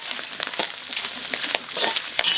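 Pork intestines stir-frying in a small pot over high heat, a close, steady sizzle broken by repeated scraping and stirring clicks.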